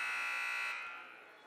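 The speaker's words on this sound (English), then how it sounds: "Buzzer sounds." A loud, steady electronic buzzer blares at a girls' varsity high school basketball game, holding for under a second before cutting off and fading into gym reverberation.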